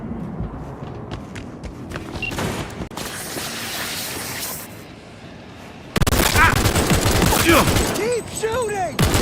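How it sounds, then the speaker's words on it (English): Cyberpunk 2077 gunfire hits in loud, dense bursts with scattered shots and heavy impacts, while shouting voices come through over the combat. "Keep shooting!"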